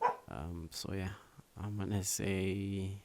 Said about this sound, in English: Excuse my dog, it's doing the most.